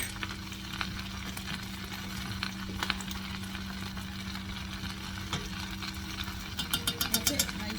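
Smoked paprika frying and being stirred in a pan, a steady low sizzle with scattered scraping clicks from the spoon, growing busier near the end, heard under talk.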